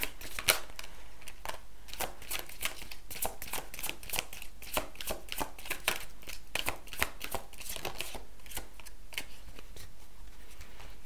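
Tarot cards being shuffled by hand: a steady run of crisp, rapid riffling snaps and slaps, close and fairly quiet, repeating rhythmically throughout with no talking.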